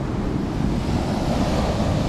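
Waves wash steadily onto a shore under a cool breeze, with constant loud surf and wind buffeting the microphone and no break in the roar.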